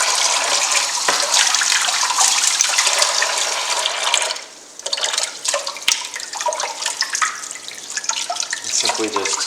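Cold tap water runs steadily as eel fillets are rinsed, a close, continuous splashing hiss with a brief dip midway and some sloshing and handling noises.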